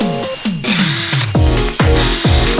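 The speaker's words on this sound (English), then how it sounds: "I'll just try and use the drill to take that out." A power drill spins up in a series of short bursts, each whir rising in pitch and then cutting off, used to smooth out vibration on a remote-control camera boat's propeller test setup.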